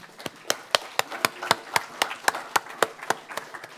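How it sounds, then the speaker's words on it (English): Steady, evenly spaced hand claps ring out at a book party for readers in a library, close and distinct against a quiet background with no talk. "Let's give them a big round of applause."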